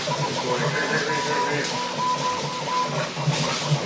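A printer runs continuously at close range, a steady mechanical whir and hum with a faint tonal whine and small rhythmic clicks, while a voice murmurs faintly in the background.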